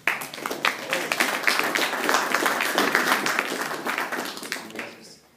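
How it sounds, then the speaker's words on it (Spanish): An audience at a poetry reading breaks into close, lively applause that holds steady, then tapers off and fades out at the end. "Le damos un aplauso"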